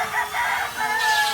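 Chickens clucking and a rooster crowing at a Filipino house with a chicken coop below, the calls rising and falling in short bursts over about a second and a half, fairly close and steady, with no voices.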